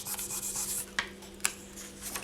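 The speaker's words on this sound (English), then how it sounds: "You don't want to be burnishing parallel, you want to be burnishing perpendicular" Paper rubbed across scratched polymer clay to burnish a woody grain, a close, steady dry rasping with a couple of sharper scuffs partway through, no voices.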